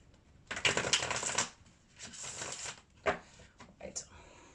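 Tarot cards being shuffled by hand in bursts of crisp riffling and flicking, with short pauses between, close and fairly quiet.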